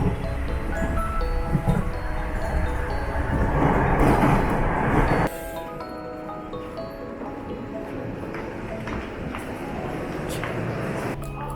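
A local JR train in Japan rumbles steadily along the tracks with a rhythmic clatter, loud and close, the tone dropping abruptly midway as the car's sound changes.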